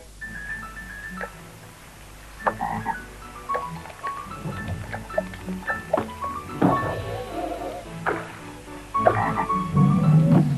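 Frogs croak in a TV insurance advert, a chorus of repeated rasping calls in irregular bursts, some close and loud, others fainter, without any talking.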